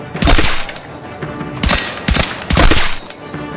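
DRS-IAR rifle gunfire in a shooter video game: loud, close bursts of rapid automatic shots in three or four clusters separated by short pauses.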